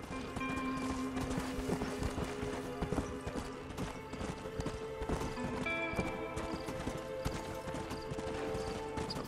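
In Red Dead Redemption, a horse trots with loud, close, rapid clip-clopping hooves over a dense game soundscape, and a neigh breaks in partway through.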